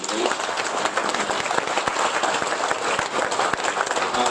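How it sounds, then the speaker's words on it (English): Audience applause after a technology debate, a loud, continuous round of clapping with distinct close claps popping out of the crowd's wash. "why don't we do an initial round of applause for everybody for the debate"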